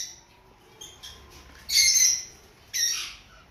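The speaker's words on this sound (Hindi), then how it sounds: "मेरे पास जितने भी लव बर्ड थे मैंने सबको एक कॉलोनी में छोड़ दिया हुआ है" Lovebirds in an outdoor breeding colony give faint chirps, then two loud, harsh squawks close by, over a quiet background.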